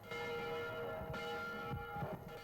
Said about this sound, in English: Today, the church has struck wedding bell.